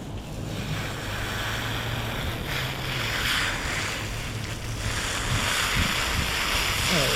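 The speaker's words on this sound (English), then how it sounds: "Let's kick the water back on." Tap water running steadily for rinsing a paint brush while painting a golden sunshine picture, a constant broad rushing hiss with no talk.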